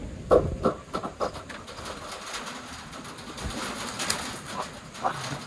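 Racing pigeons coo softly in the background amid rustling and scattered light knocks, with a few low, repeated calls throughout.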